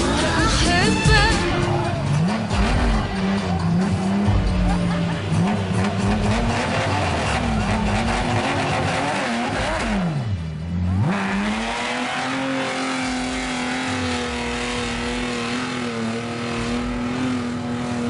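Toyota car drifting in the Gulf, its engine revving loud and continuous, pitch swinging up and down with a brief dip before climbing again, tire noise mixed in.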